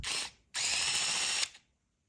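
A Vessel 220USB electric screwdriver spins at full speed in two close, loud whirring bursts, a short one and then a longer one about a second long, before it stops into silence.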